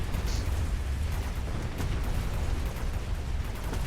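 A missile explosion in the strategy game Mechabellum produces a dense, continuous low rumble of blasts and booms, loud and sustained with no quiet gaps.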